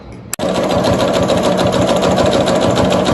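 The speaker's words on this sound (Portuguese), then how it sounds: "Então eu vou vir com a costura reta, chegando aqui, para com a agulha, dá uma viradinha e dá uma pequena inclinadinha aqui." A sewing machine runs steadily, stitching a plastic mesh pouch near its zipper; a brief click opens it, then a continuous loud, even whir fills the rest.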